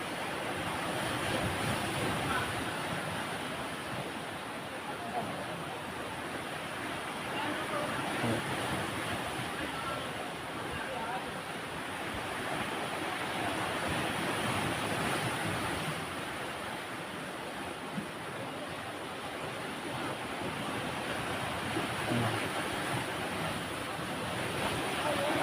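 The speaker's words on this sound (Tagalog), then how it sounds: "Sobrang lakas ng alon." Heavy ocean surf crashes and roars continuously, broad and loud, with strong wind buffeting the microphone throughout.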